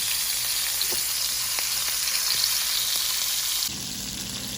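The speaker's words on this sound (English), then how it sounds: "Now you're going to place the cut up sausage that you cut up earlier into the bacon grease." Cut-up sausage frying in bacon grease in a pan, a loud continuous hiss and crackle with scattered pops that drops abruptly to a quieter sizzle near the end.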